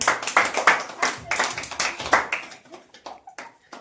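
A burst of quick hand claps from a few people during a lively guessing game, sharp and close, coming in uneven clusters before thinning into scattered single claps.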